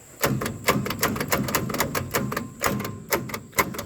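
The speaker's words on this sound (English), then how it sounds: "Try clicking her over slower, see what happens." A seized tractor engine clicked over slowly by its starter, giving a rapid run of sharp, evenly spaced mechanical clacks and knocks that continue steadily at close range with no talk.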